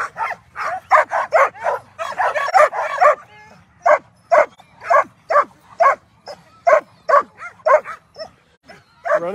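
Alaskan husky sled dogs at the start of the Willow mid-distance 150-mile race bark and yip in rapid, repeated bursts, loud and close, with a dense cluster at first and then steady evenly spaced barks.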